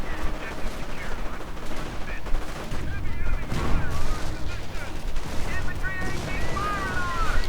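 Gunfire crackles through a World War II strategy game battle between US and Wehrmacht forces, with dense, continuous bursts of rifle and machine-gun fire and occasional heavier thumps, loud and unbroken throughout.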